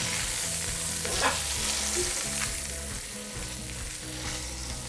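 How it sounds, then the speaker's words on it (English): Beef pot roast searing in a hot pan gives a loud, steady sizzle and crackle that runs the whole time, close up and with nobody talking. "now we're gonna flip it on the other big side here, carefully."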